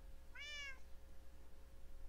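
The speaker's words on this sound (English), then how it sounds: "I need to name that cat." Single clear meow from a cat in the Minecraft video game, short and rising-then-falling, heard alone over a faint steady hum.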